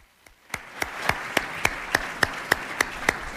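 Applause at a 2019 induction ceremony for the Joint Armed Forces Color Guard and Old Guard Fife and Drum Corps: a crowd murmur rising into steady, evenly timed rhythmic claps, loud and regular like a unison beat.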